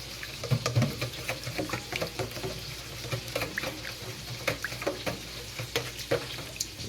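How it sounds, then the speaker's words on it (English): Seasoning stirred into water with a spoon or whisk makes irregular clinks and sloshing taps against a bowl, repeating over several seconds at close range. "Take a spoon, a whisk, or whatever, and mix it up."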